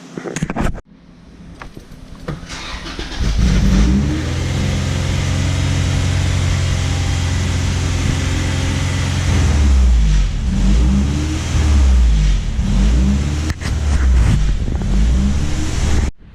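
A Honda GSR engine with a Skunk2 intake, idling poorly, cranks and fires up close and loud, then holds a rough idle broken by several throttle blips and revs.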